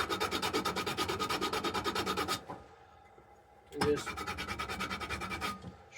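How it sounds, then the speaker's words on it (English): A homemade chainsaw file being sanded with very coarse sandpaper: fast, steady back-and-forth rasping strokes, close and loud, in two bursts separated by a short pause with a brief spoken word. "And then just take a very coarse sanding paper"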